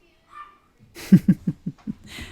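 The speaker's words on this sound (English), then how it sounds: "This dog isn't very happy about that." A dog gives a run of about six sharp barks in quick succession, fairly close and moderately loud, after a brief faint sound at the start.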